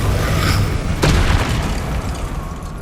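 Explosive Confringo spell blast from the Hogwarts Legacy video game, a loud booming burst about a second in over a dense, rumbling game soundscape that stays heavy throughout.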